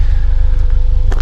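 A car with a stainless steel exhaust system produces a steady, loud, low exhaust rumble with a throbbing pulse, heard close and alone.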